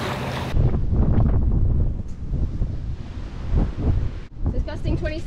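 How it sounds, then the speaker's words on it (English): Strong gusting wind of about 27 knots hits a sailboat with a little head sail up in a narrow channel, roaring loudly over the microphone with water wash beneath and a brief voice near the end. "It's gusting 27. So it's a little bit windy"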